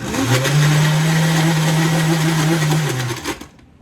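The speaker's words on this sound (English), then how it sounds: "So we're just gonna turn our blender on, and then we just press." A blender whirs through a breakfast smoothie, a steady motor drone holding for about three seconds before winding down and stopping, loud and close with no talking.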